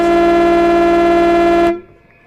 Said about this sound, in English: So the siren sounds to end a 5-1 second term, favouring the Wangaratta Rovers.